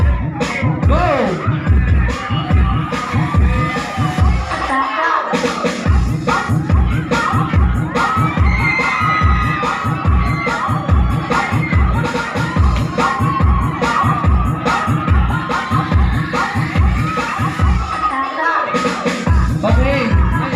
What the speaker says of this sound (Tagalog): So yung mga palakpakan, sigawan po ninyo ay may grado po yan.